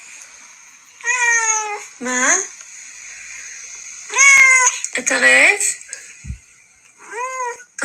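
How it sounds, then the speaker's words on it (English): A very vocal pet cat named Bunny meows repeatedly in several drawn-out, rising and falling calls spaced across the moment, close and clear, with a woman's brief speech mixed in between. "is literally the most vocal cat ever since he was a baby."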